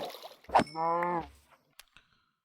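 A Minecraft cow gives a single short, nasal moo, preceded by a brief hit and followed by a few faint clicks and quiet.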